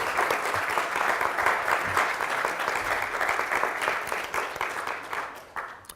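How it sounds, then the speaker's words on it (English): Conference audience at a Black graduate careers event breaks into applause, a full, steady clapping from many hands that carries on strongly, then thins and trails off near the end. "I want all of us to give each of us a round of applause for"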